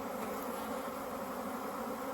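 A dense, continuous buzz of many honeybees at an open hive, close by, steady and droning with no pauses or voices.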